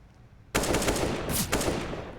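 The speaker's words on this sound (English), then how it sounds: "Warning shots over the bow." Gunfire in Counter-Strike: Global Offensive on the Mirage map: a sudden loud burst of rapid shots, close and sharp, lasting about a second and a half.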